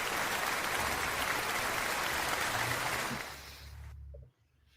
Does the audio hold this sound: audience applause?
yes